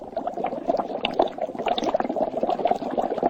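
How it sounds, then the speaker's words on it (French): Water boiling in a pot, a steady close bubbling and churning that runs without pause at an even level throughout. "Tu vois l'eau qui bout là? C'est de l'eau bouillante."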